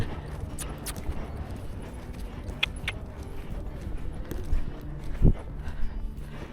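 A horse walks on a trail at an autumn stable outing, its hooves clip-clopping softly and irregularly, with faint outdoor background noise.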